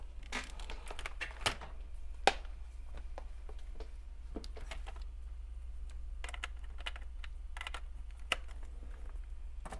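Keystrokes on a laptop keyboard during a motherboard repair bench session, a quick uneven run of close, crisp clicks and taps over a steady low hum.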